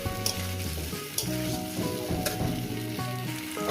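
Green chilies and mixed vegetables fry in a pan for a lentil dal while being stirred, giving a continuous dense sizzle with occasional sharp scraping bursts and a tonal melody playing underneath.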